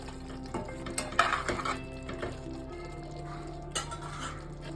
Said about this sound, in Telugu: ఇప్పుడు మసాలా అంతా మంచిగా కలిసేలా చికెన్ని కలుపుదాం.